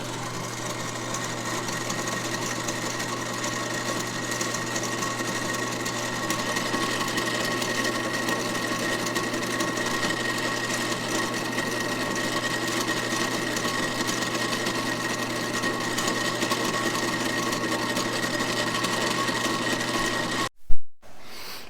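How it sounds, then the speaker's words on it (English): Small screws spun against a drill-mounted cleaning wheel during a vintage Porsche 911 Targa rebuild, a steady high-pitched whirring drone that runs unbroken and fairly loud before cutting off abruptly near the end with a short thump. "let's take our little screws and go ahead and clean them up on our drill"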